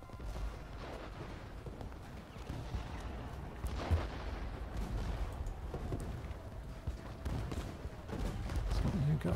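Artillery guns fire in a Civil War battle of the Ultimate General: Gettysburg video game, a rolling series of muffled booms under constant rumbling battle noise, with a voice speaking over it.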